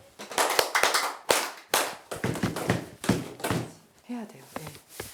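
A group of people clapping hands and stomping feet together in a counting exercise: loud, irregular bursts of claps and thumps, close by, with voices talking over them.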